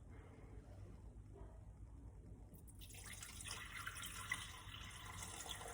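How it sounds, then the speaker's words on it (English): Water, 300 grams of it, is poured into the bowl of a mixing machine while making scroll dough, a quiet steady splashing that begins partway through after a near-silent start. "I actually start from step 10, which is adding 300 grams of water"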